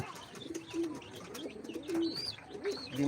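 Soft pigeon coos repeat several times in low, rounded bursts, fairly faint, with a few light chirps in between.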